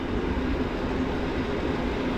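An Intercity train, the Śnieżka, at Wrocław Główny station gives a steady low rumble that holds evenly for a short stretch, with no voices over it.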